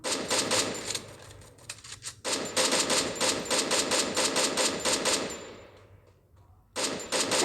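Rapid automatic gunfire in the Free Fire shooting game, long loud bursts of fast repeated shots with a short pause in between, a quieter stretch, then another burst at the end.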